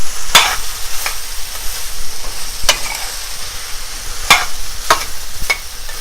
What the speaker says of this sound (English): and finally adding cauliflower and stir them again.